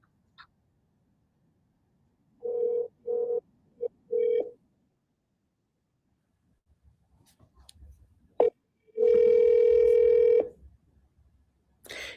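An outgoing telephone call rings on the line: several short buzzing rings come first, then after a gap a longer steady tone. The sound is thin and moderately loud, with faint rustling between the rings.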